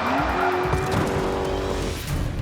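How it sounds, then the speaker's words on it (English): A driver-training car performs a handbrake turn, its tires squealing in a sustained, rising screech over steady engine noise, loud and close for the whole moment. "They all learn how to do a handbrake turn."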